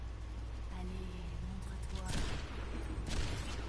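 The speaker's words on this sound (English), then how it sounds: "Sniper fight commencing." Sniper rifle shots in an esports video game match, a couple of sharp loud bursts standing out over continuous game noise and caster commentary.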